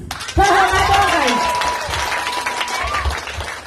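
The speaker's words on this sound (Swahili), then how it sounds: "Anajua upige makofi" A crowd applauds with dense, continuous clapping while a voice shouts and then holds a long sustained tone over it.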